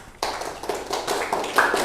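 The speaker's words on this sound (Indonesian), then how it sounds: "Tepuk tangan buat Farhan" A classroom group applauds a student named Farhan, the clapping starting abruptly and building into a close, lively patter of many hands.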